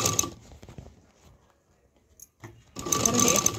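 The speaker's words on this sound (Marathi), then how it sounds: "आता इथून शिलाई मारायला सुरुवात करायची आहे स्ट्रेट" A sewing machine stitches fabric for a large blanket organiser, with brief whirring at the start, a near-silent pause with faint clicks, then a loud steady run of fast mechanical stitching close by.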